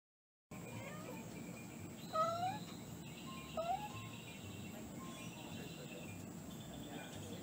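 A cat gives two distinct meows a second or so apart, fairly close and clear, over a steady background hum.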